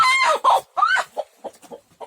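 Village hens clucking and squawking close by in a series of short, harmonic calls, a few loud bursts early on followed by softer, scattered clucks with no talking.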